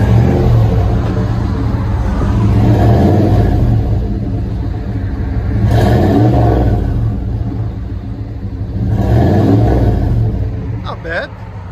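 A Chevy 1500 with a 5.7L 350 V8 and Flowmaster Super 44 exhaust idles with a deep rumble and revs up several times, swelling loud then settling, while people talk nearby.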